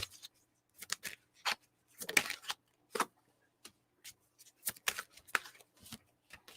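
Tarot cards being shuffled by hand in quick riffles and slides, a series of crisp papery bursts in irregular clusters, close and fairly quiet with silent gaps between.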